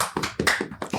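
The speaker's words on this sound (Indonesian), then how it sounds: "tepuk tangan dong" Several people clap their hands in about five quick, close bursts, crisp and short with a rough rhythm. No voices are heard.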